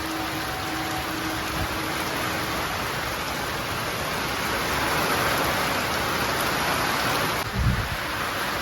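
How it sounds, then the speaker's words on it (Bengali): A heavy rain shower pours down outdoors, a dense, continuous roar that swells slightly midway and ends with a low thump, with no voices. "দেখো কেমন বৃষ্টি পড়ছে"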